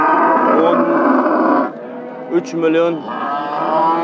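Cattle at the Beshariq livestock market moo loudly and close, one long drawn-out call followed by shorter lowing, while a voice speaks briefly among the crowd noise.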